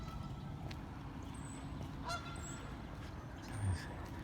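Geese honk a few times at a distance, faint over a low steady background rumble.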